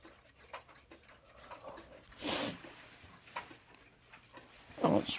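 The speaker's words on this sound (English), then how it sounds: "And that single bell alarm clock. The West Clocks Big Ben." A Westclox Big Ben single-bell alarm clock ticks faintly and steadily at close range, with a few louder knocks and rustles breaking through the quiet.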